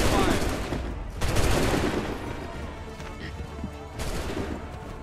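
Musket volley in Assassin's Creed 3, a loud crackling burst of many shots at the start followed by further scattered gunfire and battle noise.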